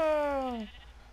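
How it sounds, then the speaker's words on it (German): A sheep in the Minecraft FTB video game gives one clear, close bleat that wavers and drops in pitch before fading into soft background noise. "Ist ein Schaf."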